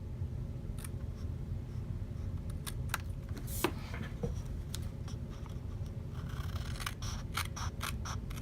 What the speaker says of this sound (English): I'm going to cut on this score line